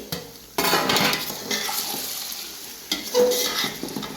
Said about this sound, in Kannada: ನೋಡಿ ಬದನೆಕಾಯಿ ಎಲ್ಲ ಫ್ರೈ ಆಗಿದೆ